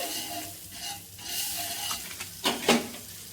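Butter sizzles and crackles in a hot pan for pav bhaji, a steady frying hiss with a few sharp scraping clicks of stirring toward the end, close and clear with no talk.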